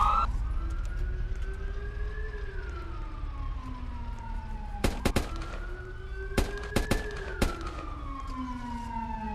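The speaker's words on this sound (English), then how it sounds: "shots fired" Gunshots in a Roblox Vancouver police patrol game: a sharp volley of cracks and then a few more separate shots, over a steady wailing police siren that rises and falls.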